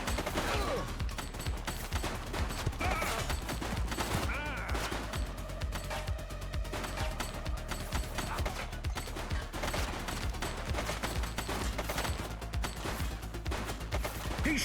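Sustained gunfire from a fleeing suspect in The Precinct video game, loud rapid bursts and volleys continuing throughout, mixed with game music and brief voices.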